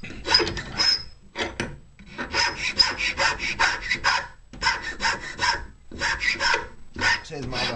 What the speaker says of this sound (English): then we get a big rough file, and we're going to file it like that